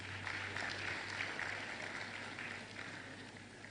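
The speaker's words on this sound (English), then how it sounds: "Please, a round of applause for him." Conference audience applauding a special advisor on rice at a Ghana food security event, a steady, distant wash of clapping from a large hall, faint and even throughout with a low hum beneath.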